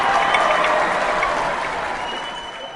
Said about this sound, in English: Let's give one more big round of applause to Mr. Jonny Zavant for joining us today.